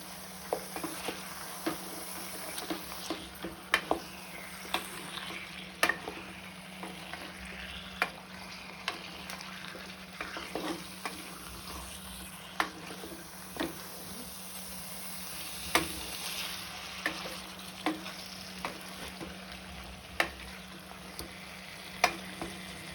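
Chicken wings, 750 grams, sizzle steadily in a frying pan while a spoon or spatula stirs them. A constant hiss runs under frequent scraping clicks, with no talk.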